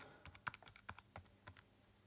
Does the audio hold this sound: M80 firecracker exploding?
no